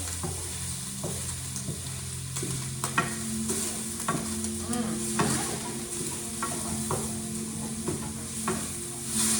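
Bell peppers frying in avocado oil sizzle steadily in a pan while a utensil stirs and scrapes them, producing repeated soft clacks over a constant close-up hiss.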